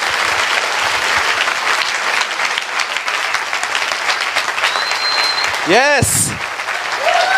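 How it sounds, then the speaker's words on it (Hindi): A church congregation applauds for Lord Jesus, a dense, continuous wash of clapping from many hands that lasts throughout. A brief spoken word comes near the end, along with a short sweeping tone. "आइए प्रभु यीशु के लिए एक अच्छी ताली बजाएंगे हम सब मिलके"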